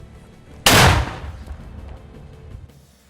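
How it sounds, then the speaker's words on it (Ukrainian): A single loud gunshot cracks out sharply during fighting near Soledar in Donetsk region, Ukraine, followed by a rumbling echo that slowly fades. "Постріл!"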